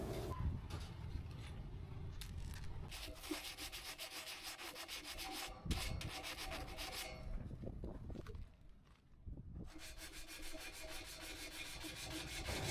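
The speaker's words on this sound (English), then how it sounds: "I also bought 1 sheet of sandpaper to clean the rust before painting." Sandpaper scrubs rust off a metal bed frame with fast, continuous back-and-forth rasping, close and fairly even, with a few brief pauses partway through.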